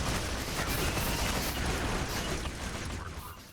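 Dense, continuous gunfire and explosions from the video game Borderlands 2 roar loud and steady throughout, fading slightly at the end, with no voice over it.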